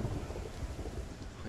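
Steady low rumble of a thunderstorm in Project Zomboid, a continuous broadband roar with heavy low-end rolling and rain-like hiss throughout, fairly loud and unbroken with no voices.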